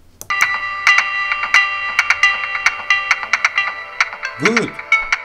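A song plays back through a cheap $1 AliExpress voice recorder module, a tinny melody of bright repeated tones with rhythmic beeping notes and a brief swooping sound, loud and alone.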